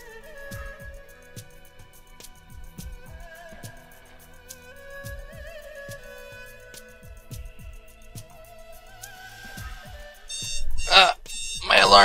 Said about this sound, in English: My alarm going off.